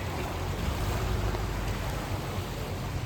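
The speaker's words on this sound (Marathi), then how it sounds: "आपली बोट चाललेली आहे या 2 खडकांच्या मधून." Boat passing between two large rocks at sea near a fort at Malvan: a steady, loud rush of engine, water and wind with no break, and no one speaking.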